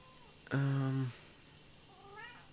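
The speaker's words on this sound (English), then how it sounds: "Yes, that's my cat. Don't come over here and meow," A house cat gives one loud, close, drawn-out meow, followed shortly by a fainter second meow.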